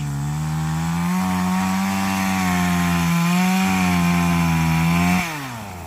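A loud, continuous chainsaw cuts through wood in a forest, with the engine holding a steady whine before the pitch drops near the end. The saw is reported to be faulty.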